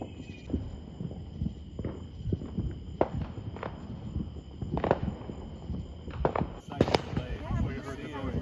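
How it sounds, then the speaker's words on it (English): Distant fireworks going off outside near a home at night, a loose series of muffled booms and thumps at irregular intervals over low background hum. "we're probably gonna catch some fireworks because of where we live"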